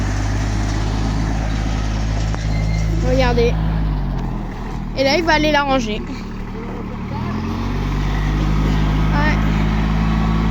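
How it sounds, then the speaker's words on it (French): Tractor engine running steadily while a delivery driver lifts a hay bale, a loud low continuous drone throughout, with people talking over it in the middle. "là c'est avec le bruit du tracteur"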